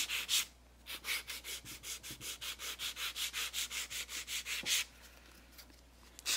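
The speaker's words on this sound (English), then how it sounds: "I'm using my 180 grit file." A 180 grit nail file scrapes over acrylic nails in quick, even back-and-forth strokes, close and rhythmic, with a brief pause partway through before filing resumes.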